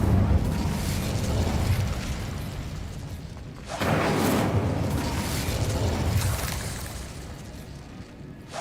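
Incendio fire spell cast in Hogwarts Legacy, a sudden loud whooshing burst of flame that erupts midway and roars on for several seconds amid a dense, rumbling battle soundscape.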